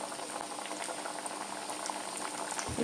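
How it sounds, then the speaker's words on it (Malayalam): Oil bubbles and sizzles steadily and close by as food deep-fries, a continuous crackling hiss with no talking. "കുറേശ്ശെ ഇട്ട് നമുക്ക് വറുത്തെടുക്കാം"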